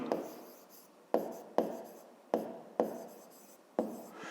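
A pen or pencil writes out a math expression on paper, with six soft, close scratching strokes, each starting with a small tap and fading away. The setting is quiet.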